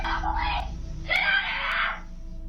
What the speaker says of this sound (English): despite the obvious screams from the girl inside as she notices the men at the door